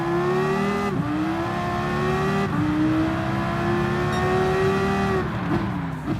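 Dodge SRT Tomahawk VGT in Gran Turismo Sport launching from a standstill, its engine note climbing loud and steady through several gear changes with brief dips between pulls.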